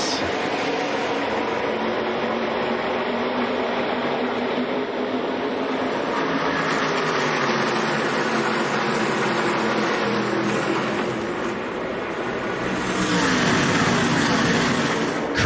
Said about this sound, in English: I love hearing those trucks thunder off turn 2.